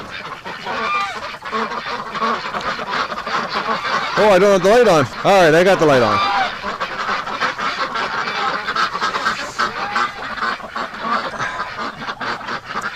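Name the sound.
ducks and geese honking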